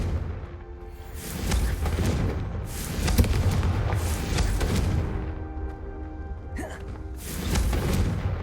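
A Confringo fire-blast spell erupts in Hogwarts Legacy as a sustained rumbling boom with rolling, swelling blasts and thuds over several seconds, fairly loud and close.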